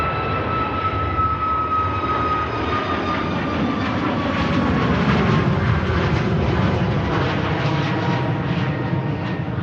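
A Ryanair airliner takes off from Manchester Airport, a loud sustained engine roar with a high whine that slowly drops in pitch as the jet pulls away, no voices.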